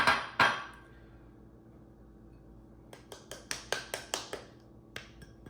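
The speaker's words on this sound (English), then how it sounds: "I'm gonna use a fork. I'm gonna just break up that brown sugar and all of that, and we're just gonna mix this." A fork knocks against a bowl while brown sugar and cinnamon are mixed: two sharp clinks, a pause, then a quick run of about eight light rhythmic taps, close and clear.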